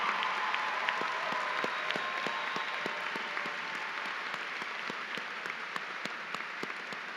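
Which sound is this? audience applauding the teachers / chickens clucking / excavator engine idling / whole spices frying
audience applauding the teachers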